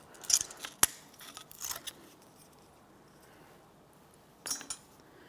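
Thin metal caliper bracket tins from a 2004-2015 Nissan Titan front brake being pried off and set down, several sharp light metallic clinks and scrapes in two bursts, separated by near silence, close and fairly quiet.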